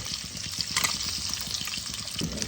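Eggs crackle and sizzle in hot oil, a steady frying hiss with small pops and occasional scraping.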